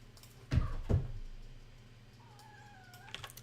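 A house cat lets out two loud, close meows in quick succession, then the room goes quiet apart from a faint thin whistle-like tone.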